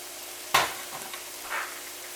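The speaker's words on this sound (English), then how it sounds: "Now we want to add a tablespoon of oil. We want to put in our onions." Onions tipped into a tablespoon of hot oil in a pan, a sudden close burst of sizzling that settles into a quieter hiss, with a brief stir near the end.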